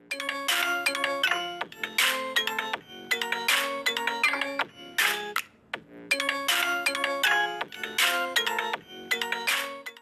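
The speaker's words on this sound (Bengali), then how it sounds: "এবারে এই ফোনের একটু সাউন্ড টেস্টটা নিয়ে নিতে পারেন।" A smartphone loudspeaker plays a bright, chiming ringtone-like melody in repeated phrases with short gaps between them, loud and clear with no other sound.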